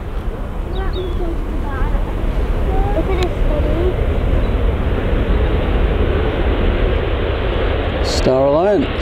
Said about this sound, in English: We've got this private jet right in front of the approach path this morning